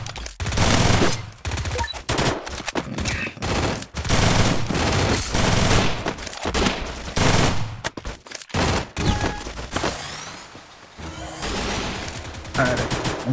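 Rapid bursts of P90 submachine gunfire in the mobile battle game Free Fire, dense and loud, repeating through most of the stretch with short gaps between volleys.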